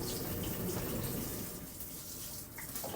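Shower water pours steadily in a small train bathroom, a continuous broadband spray and splash close by with slight shifts in intensity, no voices.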